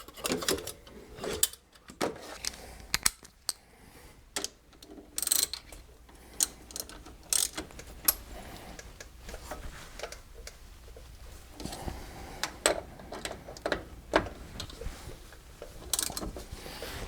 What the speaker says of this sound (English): Move over to the caliper bolts. Tighten them back down.